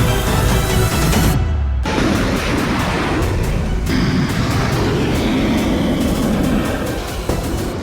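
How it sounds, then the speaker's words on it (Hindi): An Iranian kamikaze drone in flight makes a loud, steady engine roar with broad rushing noise, briefly cutting out early on before resuming at full strength. "यह है ईरान का आरएस ड्रोन। ये एक कामिकाजे ड्रोन है।"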